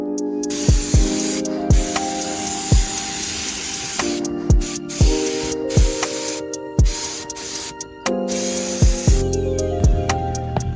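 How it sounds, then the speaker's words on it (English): Bursts of aerosol spray paint hiss loudly in short, repeated blasts while painting a Honda Civic, each ending with a rattling click, close and steady with brief pauses between. "that was like 2 hours worth of spray painting"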